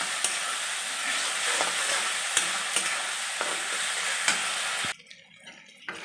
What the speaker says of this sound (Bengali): ভালো করে মশলাগুলোকে আমাকে কষিয়ে নিতে হবে যতক্ষণ না তেল ছাড়ে